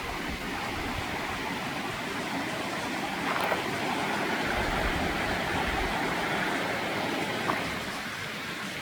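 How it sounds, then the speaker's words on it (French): A waterfall roars as a steady, broad rushing wash of falling water, dense and continuous throughout with no voices. "Elle est là la cascade."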